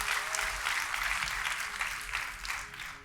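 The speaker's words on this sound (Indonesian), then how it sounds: "Kita kasih tepuk tangan yang paling meriah buat Tuhan kita." Congregation applause during a church service, a steady wash of many hands clapping at moderate volume over a low hum, tapering slightly toward the end.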